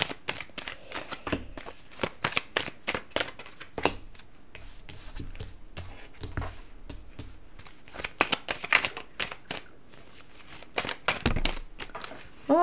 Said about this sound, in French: Donc je ramasse les cartes.